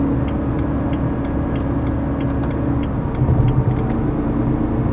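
A 1977 Porsche 911 S flat-six engine pulls hard under acceleration toward high revs, a loud steady drone heard from inside the car with faint ticking and rattles, no talking.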